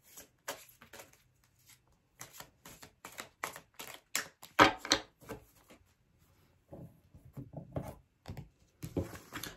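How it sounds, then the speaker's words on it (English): Tarot cards are shuffled in a series of crisp, papery riffles and flicks that come in short bursts with brief pauses between them, close up and fairly loud. "Okay, last shuffle, guys."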